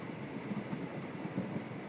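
A train travels in a Sherlock Holmes video game, a steady low rumble of rolling carriages with faint rhythmic clatter, continuous and even.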